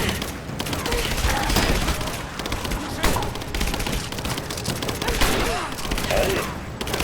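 Gunfire in the video game Rise of the Tomb Raider rattles in rapid bursts of shots throughout, loud and continuous, with quieter game sounds mixed beneath.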